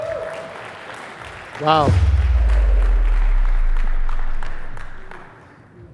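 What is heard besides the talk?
audience applause welcoming a conference speaker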